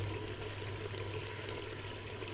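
Over a litre of water pours into mutton for haleem, making a steady, dense rushing splash that runs throughout.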